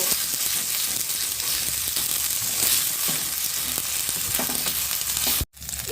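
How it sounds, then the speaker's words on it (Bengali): Ginger paste is stirred in hot oil for butter paneer, with a steady close sizzle and occasional spatula scrapes, ending with a brief cut to silence. "আদা বাটাটাকে তেলের মধ্যে ভালোভাবে নেড়ে নেব।"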